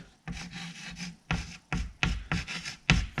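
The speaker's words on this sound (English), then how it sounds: "Let's just write it down" A marker scrapes across a board in short, close, scratchy strokes, several quick rubbing bursts in an uneven rhythm, as test results for a Honda Dream50 with an 18mm carburetor are written up.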